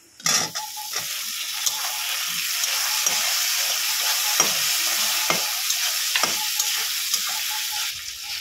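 Tomato goes into a pan of onion frying in oil for a fish curry, giving a loud burst of sizzle that settles into a steady hiss, broken by repeated scraping knocks as the mixture is stirred.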